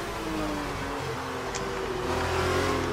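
A car engine drones and revs in the Formula 1 racing game F1 2019, a steady close mechanical whine with shifting pitch, heard alone without speech.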